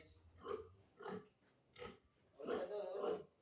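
A pig being carried grunts and squeals in several short bursts, close by, with a couple of louder cries near the end.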